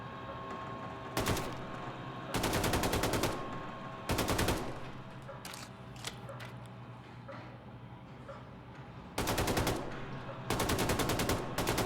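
Bursts of automatic gunfire at a shooting range in Wolfenstein II: The New Colossus, several loud sustained volleys of a second or so separated by short pauses, over steady game background noise.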